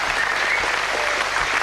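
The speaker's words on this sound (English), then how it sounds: "Warm round of applause from the crowd for" A crowd at a professional boxing match applauds after a six-round debut bout, a loud, dense, steady wash of clapping with no breaks.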